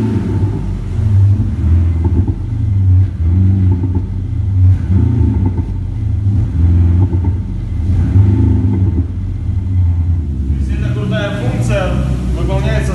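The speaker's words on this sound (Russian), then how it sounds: "Послушайте поближе, ближе к выхлопной системе." A Toyota Camry fitted with a THOR active exhaust system set to a Mercedes C63 sound profile, heard up close at the exhaust, gives a steady, loud, deep rumbling rev with swelling pulses throughout and a brief higher-pitched sound near the end.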